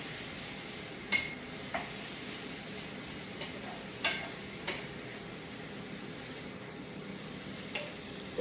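Rice searing in a hot pan on the stove, a steady faint sizzle with a few sharp scrapes and taps of the spoon as it is stirred.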